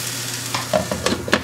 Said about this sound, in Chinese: 给它喷入清水